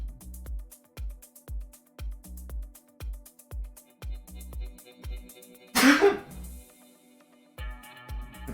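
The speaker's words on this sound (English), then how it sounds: "Making me sneeze." A single sneeze, loud and close, bursts out once midway through a steady rhythm of repeated low thumps during work on lamps built from salvaged trash.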